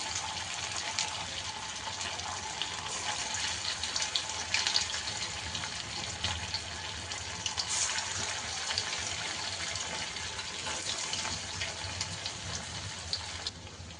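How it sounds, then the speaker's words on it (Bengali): Loitta (Bombay duck) fish chops frying in hot oil over lowered heat, a steady, even, moderately loud hiss of bubbling oil throughout. "এবার আমি লোটে মাছের চপগুলো ছেড়ে দিচ্ছি।"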